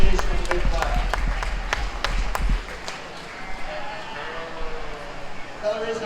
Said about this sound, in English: Let's give Ryan a big round of applause for coming to South Dakota and working for our sheep tonight